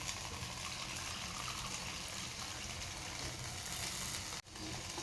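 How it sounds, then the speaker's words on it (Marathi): Water from a mixer jar goes into a hot pan holding moringa soup paste, making a steady, fairly quiet hiss and sizzle that carries on evenly throughout, with a brief dip near the end. "मिक्सरच्या भांड्यामध्ये जे पाणी आहे ते घालणार आहे"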